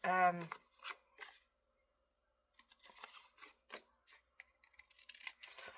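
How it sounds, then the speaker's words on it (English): Scissors trimming the white edges off paper in a series of quick, close snips and paper rustles after a short spoken word and a pause, crisp and fairly quiet. "we just want to trim it get our white edges off"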